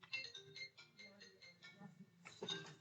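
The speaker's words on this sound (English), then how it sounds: "Phone's ringing." A mobile phone rings at close range, a faint melodic ringtone in short repeating tonal bursts with no one talking over it.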